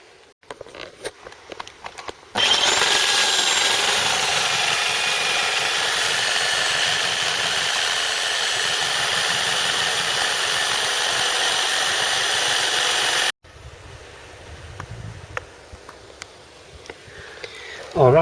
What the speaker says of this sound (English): Let me get drilling on this now